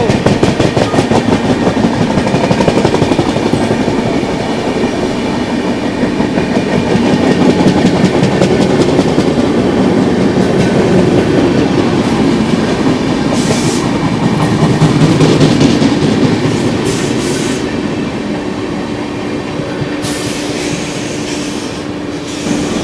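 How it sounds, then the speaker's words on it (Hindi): Amrit Bharat Express running in parallel with the Kanpur–New Delhi Shatabdi Express, a loud, continuous rumble of wheels and carriages with rhythmic clickety-clack and rushing wind, steady throughout with no talk. "कानपुर नई दिल्ली शताब्दी एक्सप्रेस ने पैरेलल ही ओवरटेक मार दिया है हमारी अमृत भारत को।"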